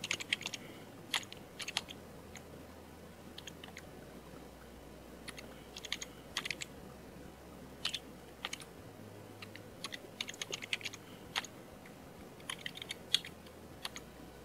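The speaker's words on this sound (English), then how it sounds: "Next, I'm going to type in name" Computer keyboard typing while entering a field name during API building, with quiet irregular bursts of key clicks spread throughout over a low steady hum, no talking.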